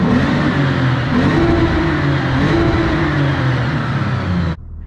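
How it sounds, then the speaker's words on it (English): Car engine revved in a garage while stopped, a loud, close mid-pitched engine note rising and falling through several revs before cutting off abruptly. "I'll go and stop right here and give it a few revs."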